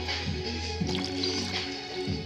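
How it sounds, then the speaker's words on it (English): Water being added into a container, with steady liquid pouring and squishing over a constant background hum, a few soft drips and splashes rising within it. "Add more water in there."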